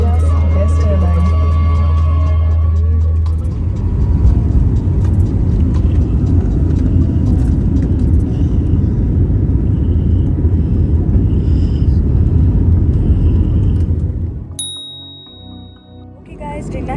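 Steady low roar of an airliner cabin in flight with All India's airline, a broad rumble holding for most of the clip, cut near the end by a bright chime-like tone as the drone fades.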